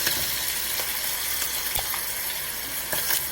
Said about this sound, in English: just fry your meat a bit